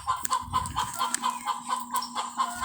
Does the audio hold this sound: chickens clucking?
yes